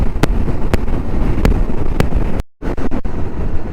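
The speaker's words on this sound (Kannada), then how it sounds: "ಓ ತುಂಬ ಗಾಳಿ ಇದೆ ಗುರು, ಓಡ್ಸೋಕ್ಕಾಗ್ತಾ ಇಲ್ಲ, ಹೆವಿ ವಿಂಡ್ ಬ್ಲಾಸ್ಟು" Heavy wind buffets the microphone in a constant loud roar during an off-road motorbike ride at Kaatikaadu, Sakleshpura, with sharp periodic thumps and a brief cutout near the end.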